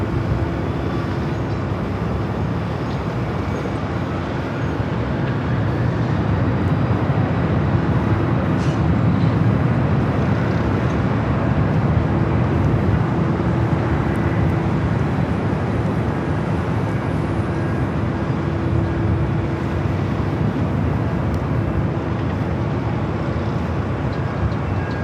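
Airliner taking off at Los Angeles International Airport, a steady, loud, broadband jet roar with a low rumble that holds for the whole stretch.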